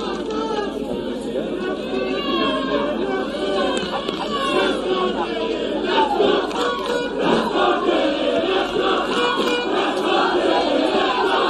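Crowd at a women's rugby sevens championship final between Jamaica and USA South, a dense continuous roar of cheering and shouting voices held steady throughout at a loud, sustained level.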